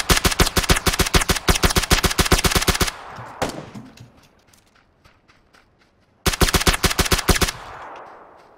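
Rapid automatic gunfire in a shooter video game, two dense bursts separated by scattered distant shots and quieter pauses, loud and close.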